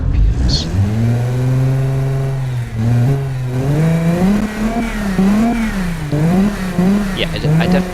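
A truck engine simulated in a car-building video game starts and revs, its pitch climbing and falling through smooth, sustained rev sweeps, loud and close, with no other sounds over it.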